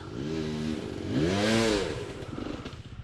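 A two-stroke motorcycle engine revs hard on a forest mountain climb toward Lake İznik, a buzzing drone that swells in pitch mid-clip and then settles back, loud and close.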